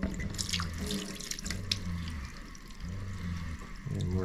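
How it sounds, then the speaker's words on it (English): Tap water runs steadily into a sink or container for rinsing garden seed, a continuous splashing stream with slight shifts in pitch as the level changes. "we'll call it clean water, water from the tap"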